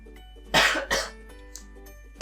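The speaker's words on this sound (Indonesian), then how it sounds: "Pakai batuk lagi." Two sharp coughs in quick succession, close and fairly loud, followed by quiet and a brief click at the end.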